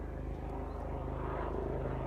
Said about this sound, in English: There's a helicopter or something